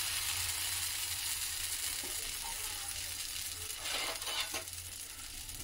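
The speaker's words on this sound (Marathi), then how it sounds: "आणि आंबोळी घालून घ्यायची।" Ragi (finger millet) amboli batter sizzles steadily on a lightly oiled hot pan, a continuous close frying hiss with a few soft taps partway through.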